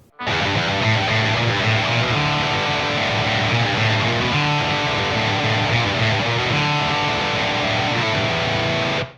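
A heavily distorted electric guitar plays a riff, loud and dense, with open strings ringing together into a smeared, messy wall of sound.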